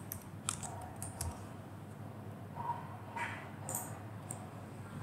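Sparse keystrokes on a computer keyboard as search keywords are entered, light scattered clicks at moderate distance with quiet room noise between them.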